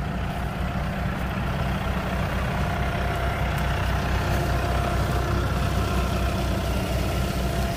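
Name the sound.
tractor driving while spreading fertilizer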